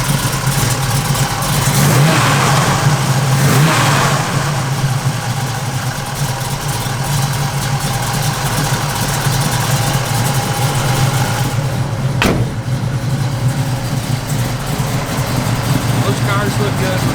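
A 1967 Chevrolet Camaro convertible with an aggressive cam idles steadily and loudly up close, a constant lumpy engine rumble running throughout.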